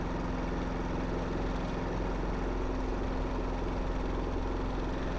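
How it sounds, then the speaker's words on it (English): A steady, droning engine hum from a lawn mower cutting grass in The Coin Game video game, running continuously at an even level with no voices. "Alright, here we go. Mowing."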